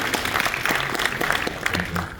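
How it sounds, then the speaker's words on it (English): At a film Q&A for a Camino documentary, an audience breaks into dense, close applause that fills the room, with voices talking over the clapping. "You can clap"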